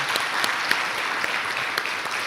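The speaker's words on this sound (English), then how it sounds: "we should really give our panelists a nice round of applause" A conference audience applauds its panelists at a Right to Know Week event, steady, even clapping from many hands sustained throughout, close and fairly loud with no talk over it.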